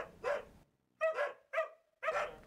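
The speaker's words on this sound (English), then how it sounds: "are these dogs barking like this?" Dogs bark outdoors in the daytime, four sharp barks in an uneven rhythm, close and clear with no talk over them.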